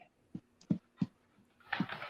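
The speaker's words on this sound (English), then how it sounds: "We got a dog." A dog gives a few short, separate yips or whimpers at moderate volume, then a brief rustling burst follows.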